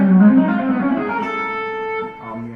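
A short melodic electric guitar fusion phrase with smooth, sustained notes gliding through a run before settling, played alone at moderate volume.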